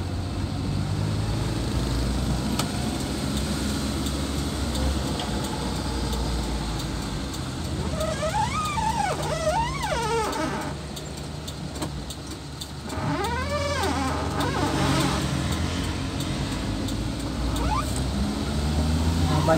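Cars and motorbikes pass along a road in Pulang Pisau, a continuous engine rumble with rising and falling pass-bys in the middle, while someone talks over the traffic.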